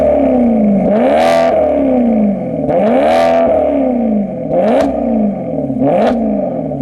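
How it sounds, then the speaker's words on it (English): Loud, close exhaust note of a Maserati GranTurismo MC being revved repeatedly, four rising-and-falling blips with swooping engine pitch and crackles at the top of each rev. "One thing we can agree on, however, is the exhaust note, which sounds fantastic."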